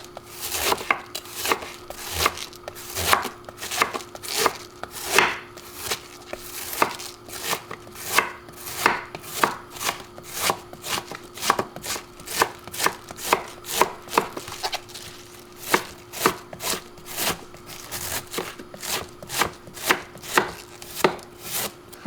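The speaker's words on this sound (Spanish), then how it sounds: "aquí tenemos la col ya rallada, bien picadita" Cabbage is finely chopped for coleslaw with a knife on a board, giving a long run of sharp, close chops in a steady rhythm with brief pauses, under a faint background hum and no speech.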